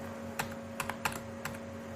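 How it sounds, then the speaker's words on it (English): Arrow keys on a computer keyboard are pressed one at a time, giving four or five sharp, quiet clicks at an uneven pace over a steady electrical hum, with no voices. "I'm using the arrow keys in ALSA"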